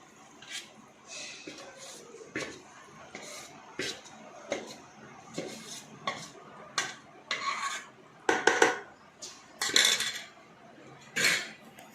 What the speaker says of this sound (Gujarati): હવે બધું આની અંદર મિક્સ કરેલું આની અંદર મૂકી દેવાનું